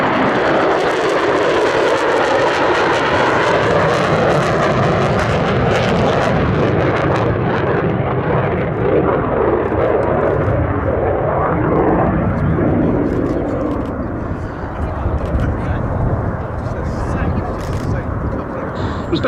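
A US Navy F-35C Lightning carrier-variant jet at the Duxford Battle of Britain air show, a loud, sustained, roaring jet pass with a sweeping pitch shift, while a commentator talks over it.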